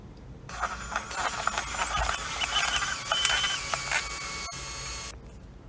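An aero mixer blending the A and B components of EZ Pour, a steady, close, loud whirring motor drone with a high whine that starts, runs for several seconds and cuts off.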